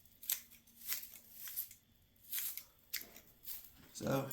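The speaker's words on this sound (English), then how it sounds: "you can just kind of snip off some of this" Scissors snip loose straw off the rough top of a homemade archery target bale in a backyard, a run of short, crisp cuts and rustles spaced about half a second apart, fairly close.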